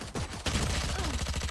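Rapid automatic gunfire in a video game round, dense overlapping shots in quick bursts with a brief gap, loud and close, filling the whole moment.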